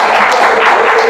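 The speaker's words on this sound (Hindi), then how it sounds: "इसके आप लोग ताली बजा सकते हैं" A dense wash of audience applause at a pensioners' bulletin gathering, loud and steady throughout a brief burst with no distinct individual claps standing out.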